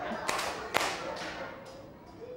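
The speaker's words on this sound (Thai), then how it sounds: "กลุ่มที่หนึ่ง ปรบมือสองครั้ง" A group of students in a classroom concentration exercise clap their hands together twice, two sharp fairly loud claps with a slightly ragged spread, followed by quieter room noise and faint voices.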